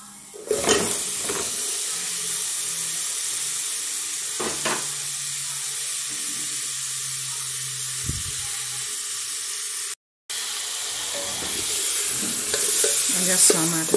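Tomato and sausage (linguiça) fry in a pan with a steady, close sizzle and hiss for the whole stretch, broken by a few stirring scrapes and a brief dropout near the end.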